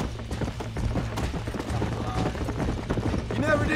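Horse hooves clatter in Red Dead Redemption, a steady clip-clop rhythm of a horse on the move mixed in with ambient game sound and music, and a voice is heard near the end.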